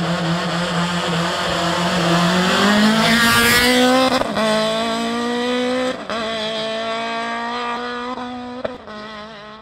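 A rally car prepared by Rolls Racing drives hard on a race stage at PAV Huty 2014, its engine revving loud and close, rising in pitch through gear changes with sharp shifts and brief tire noise.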